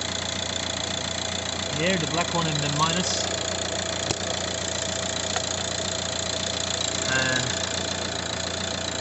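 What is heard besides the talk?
car engine running at idle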